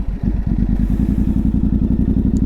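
A 2024 Yamaha Ténéré 700 sits at standstill with its engine idling, a loud, close, lumpy twin-cylinder throb pulsing evenly and steadily throughout.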